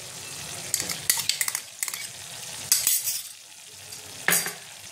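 Spices and whisked sour yogurt for a cauliflower rezala sizzle in hot oil while a spoon stirs and scrapes the pan in quick clattering bursts. Frying is close and steady between the strokes, with no talk.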